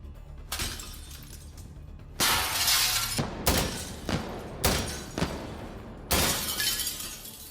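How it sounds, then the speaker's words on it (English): An AK rifle firing into window glass in Insurgency Sandstorm, loud repeated bursts of shattering and breaking, several sharp crashes spaced over about seven seconds. "a grown man can't break a window using his AK, and it needs 3 shots to shatter"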